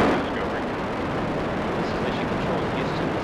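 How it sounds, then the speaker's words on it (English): Space shuttle Discovery lifting off on its final launch, a steady, dense rocket roar that fills the whole stretch evenly without pause or change, heavy and continuous. "Booster ignition and the final liftoff of Discovery."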